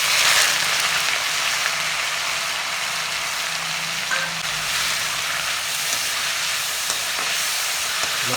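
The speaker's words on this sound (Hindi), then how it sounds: "तेल गरम हो गया, एमा डाल देबो 1 चम्मच जीरा। डाल देबो संगवारी में कटे हुए प्याज।" Chopped onions and cumin seeds fry in a few spoonfuls of hot oil, a loud continuous close-up sizzle and hiss with faint stirring underneath.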